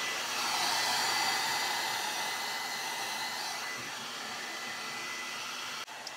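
A steady hair dryer roars close by while blow-drying fine hair, a constant high-pitched whoosh that dips slightly as the airflow shifts and stops abruptly near the end, with no voices.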